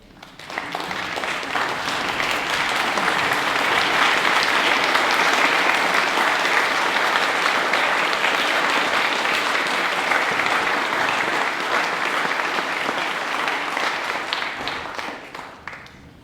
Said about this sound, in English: give a round of applause for the parents of these young men